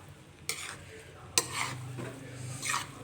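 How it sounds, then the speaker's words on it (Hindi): Cooked rice is stirred and folded in a pot with a utensil, giving a few soft scraping and clinking strokes against the metal, quiet and close. "मैं आपको मिक्सअप करके भी दिखाती हूँ। ये देख सकते हैं मैंने चावलों को हल्का हाथ रख के मिक्स करना है आपने।"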